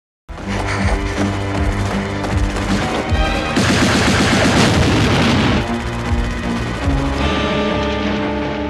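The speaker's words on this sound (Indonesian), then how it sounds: "bisa menghindari semua tembakan musuh" Loud bursts of rapid gunfire from a Battle of Stalingrad war film crackle and boom, densest in the middle, layered over a dramatic music backing.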